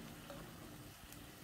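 Beef empanada filling with tomato sauce frying and being stirred in a pan, giving a low, continuous sizzle with soft scraping, quiet and close, with no talking.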